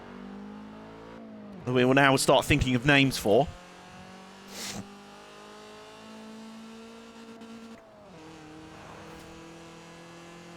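Cars in the racing game Forza Horizon 4 cruising along a road, a steady engine drone with a brief louder rev midway, running beneath a voice throughout.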